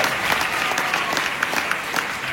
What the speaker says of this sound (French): je vais dire juste un petit mot à mon ingénieur du son merveilleux que je vous demande d'applaudir